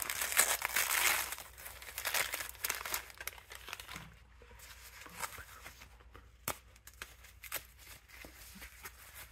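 Crinkling paper wrapping being torn and unfolded to open a small gift at a Valentine's Day swap, loud rustling bursts up front that thin into quieter, scattered crackles.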